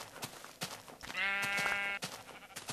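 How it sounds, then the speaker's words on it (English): Sheep bleating in the video game Minecraft, one sustained wavering bleat near and clear, set between soft clicks and light background game noise. "Aha! Sheep!"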